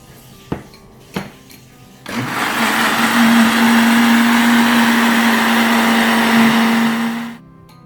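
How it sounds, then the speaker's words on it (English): A kitchen blender whirs through flour batter for roti jala, a lacy Malaysian pancake. A couple of sharp knocks come first, then the motor starts and holds a loud, steady whine for about five seconds before it cuts off. "I'm going to add in some of the flour and I'm going to blend this first."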